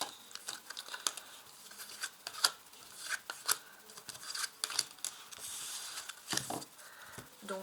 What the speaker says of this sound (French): je vais tirer 5 cartes, je vais les placer et après on rajoutera d'autres cartes dessous